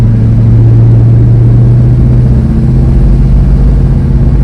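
A 1967 Dodge Coronet's engine runs loud and steady while the car drives on the road. A constant low rumbling drone with a smooth, even tone holds throughout, with no voices.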